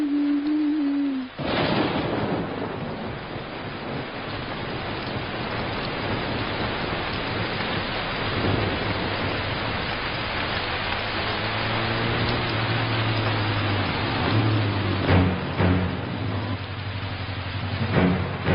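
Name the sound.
rain with thunder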